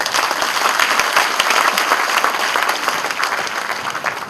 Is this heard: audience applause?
yes